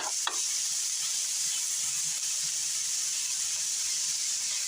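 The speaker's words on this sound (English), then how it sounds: "Saute these onions with the ground beef." Onions and ground beef sautéing in a pan give a steady, close sizzle and hiss with a brief stir clatter at the start, no talk.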